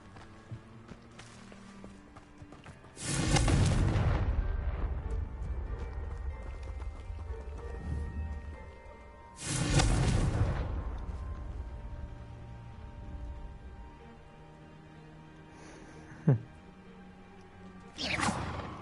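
Confringo spell blasts go off in Hogwarts Legacy, two loud, broad whooshing bursts a few seconds apart, each fading slowly, followed by a sharp short crack and a third burst amid quiet game ambience.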